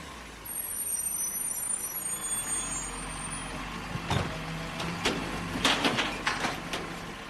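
A garbage truck rumbles at a landfill, with sharp clanks and bangs as it unloads, hissing air brakes, and a faint high whine in the background.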